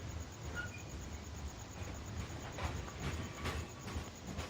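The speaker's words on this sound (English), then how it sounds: "There goes the train." A train departs in Farming Simulator 2015, a steady low rolling rumble with faint rhythmic clicks from the rails, fairly quiet and continuous.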